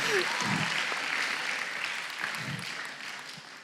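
Church congregation applauding during a sermon, a broad steady wash of clapping that starts at full strength and gradually tapers off over a few seconds, with faint voices mixed in.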